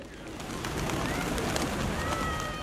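White pigeons at the Blue Mosque shrine in Mazar-e-Sharif, Afghanistan, a steady wash of soft, overlapping coos and bird calls over a busy outdoor murmur.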